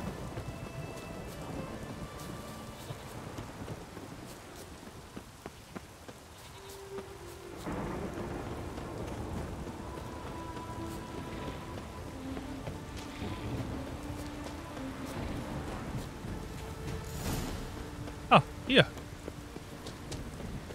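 Steady rain patters throughout with low rumbles of thunder in The Witcher 3, and a couple of sharp knocks near the end.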